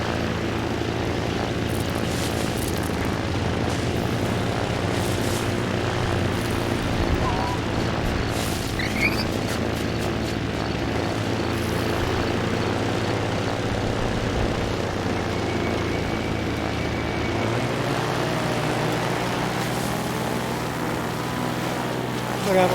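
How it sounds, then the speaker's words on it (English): A player-built propeller plane in the video game Trailmakers hums with a steady, loud engine drone, its pitch shifting slightly near the end, and no speech over it. "This is intended to be a plane."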